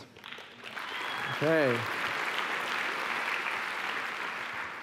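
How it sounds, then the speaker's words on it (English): Audience applause fills a large hall at a university business plan competition welcome event, steady dense clapping throughout with one brief spoken word from a nearby voice over it. "You weren't supposed to applaud yet, but that's fine."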